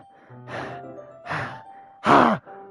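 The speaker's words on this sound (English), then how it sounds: "A sharp inhale, like someone is sucking the air through their teeth." Three sharp, hissing inhales drawn through teeth in Doki Doki Literature Club Plus, each close and distinct, the last loudest, with a faint tonal game backdrop between them.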